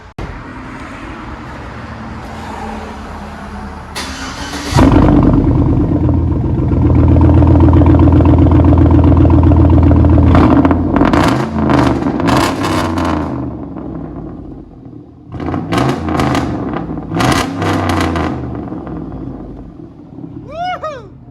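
The 5.3-litre V8 of a 2007 Chevy Silverado pickup with true dual straight-pipe exhaust roars to life and revs hard several times, a deep loud rumble with sharp rises and falls, ending in a short squeak.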